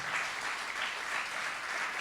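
A church congregation applauds during a Spanish-language worship service, a steady, dense wash of clapping that fills the whole moment at moderate volume with no voices above it.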